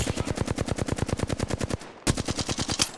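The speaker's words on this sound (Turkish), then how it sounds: "Ben sıkıyorum bunlara." Rapid automatic gunfire from Apex Legends, a steady string of evenly spaced shots that stops briefly, then resumes in another fast burst, loud and close with no talk over it.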